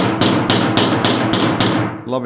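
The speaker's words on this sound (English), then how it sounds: "then I pounded it with the hammer" A hammer taps heated metal on a 1980 Triumph TR7 car body panel, six evenly spaced ringing strikes close up, loud and bright, ending with a brief voice starting to speak.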